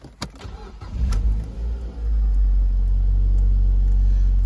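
A 2006 Mazda MX-5 2.0i cranks over with a few sharp bursts, catches, and settles into a steady, loud idle rumble that holds for the rest of the recording.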